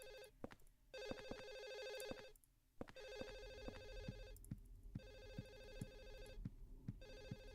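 A telephone rings in the horror video game Silent Hill 4, a bright electric bell in repeated bursts separated by short gaps, loud and clear over a low background hum.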